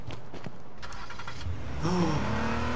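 A police car engine in H1Z1 King of the Kill briefly starts, revs up and pulls away, with a short rising whine.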